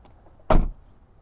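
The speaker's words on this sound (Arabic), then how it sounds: "تسكر الدبة، ما عندك مسكة هنا، لازم أنك تمسك الصبغ" The trunk lid of a 2024 Nissan Z is shut with a single short, solid thud close by, with quiet surroundings before and after.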